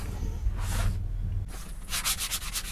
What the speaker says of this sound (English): It's a 1/2-inch dowel. It's got some 120 grit glued onto it.